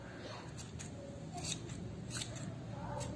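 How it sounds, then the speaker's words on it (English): Scissors snip again and again, trimming a fluffy yarn pompom into a round shape, with quick, crisp cuts close by at a fairly quiet level. "Keep on trimming until you get the round shape, the smooth and fluffier look."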